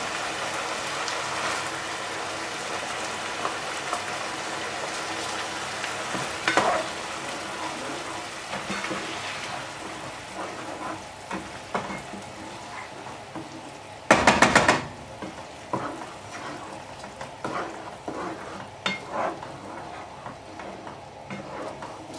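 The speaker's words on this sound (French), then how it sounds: "Et là, j'ajoute mon purée de oignons et tomates." Onion and tomato purée added to a hot pan for a Pakistani chickpea sauce, a steady sizzle and frying hiss throughout with a few louder scraping stirs and one brief loud burst midway.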